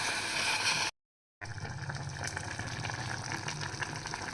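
Water from rinsing a blender jar gushes steadily into a pot of curry, a continuous splashing fill that cuts out briefly and then resumes.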